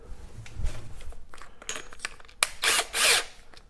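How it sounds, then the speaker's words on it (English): A hand drill with a 1/2-inch bolt chucked in it whirs in short bursts close by, with clicking and ratcheting mechanical sounds between the spins. "I chucked it up in a drill."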